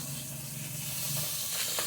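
Boneless milkfish frying in hot oil sizzles and crackles steadily, with a soft hissing spatter close by and no voices.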